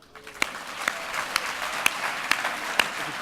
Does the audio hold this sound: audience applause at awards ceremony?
yes